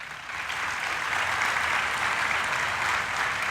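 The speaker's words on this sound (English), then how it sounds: "So please, can I request each team to stand up for a round of applause." A room full of company event attendees applauds the India travel team, a dense, even wash of clapping that swells quickly and holds steady with no speech over it.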